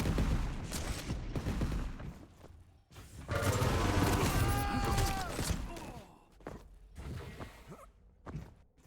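Railgun and other weapon fire in the arena shooter Quake Champions during a one-on-one duel, with dense overlapping shots, mechanical clanks and bursts across the whole stretch and short pauses between volleys.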